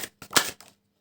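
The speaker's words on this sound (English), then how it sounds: "I feel like doing one more shuffle." A few quick papery riffling bursts of a deck of cards being shuffled, close and crisp, with short gaps between them.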